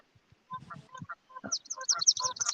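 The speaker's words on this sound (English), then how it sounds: "I hear the Canada geese" Canada geese honking outdoors in open country, a burst of overlapping calls building in the latter half, moderately near and fairly loud, with softer bird sounds and low rumbles before it.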